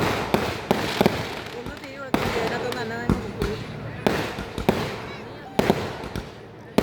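Fireworks at a Hindu temple festival in Kerala, a rapid volley of sharp bangs and crackles close by, tightly spaced and uneven in rhythm, with a crowd murmuring beneath the blasts.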